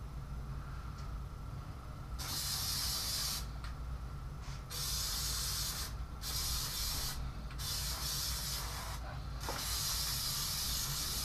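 Plasti Dip rubber coating sprayed heavily from an aerosol can onto a car windshield, long steady hissing bursts separated by brief pauses, close and loud with no talking.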